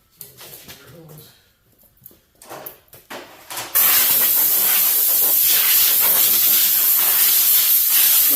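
A garden hose sprays down a powder-coated mini-bike frame built for a Predator 212cc drag bike. Brief talk and clanks come first, then a loud, steady, hissing spray runs unbroken to the end.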